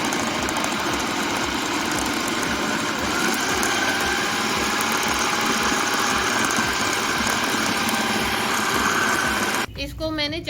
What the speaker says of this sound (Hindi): अब इन तमाम के साथ इसको मैं ब्लेंड कर लेती हूँ।